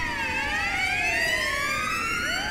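Emergency vehicle siren in GTA V, a loud wailing tone sweeping up and down in overlapping layers, close and continuous over a low background rumble.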